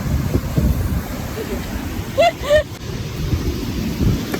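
Seaside wind and surf rolling along steadily with a rough, broadband roar, with two short whistle-like tonal chirps in the middle.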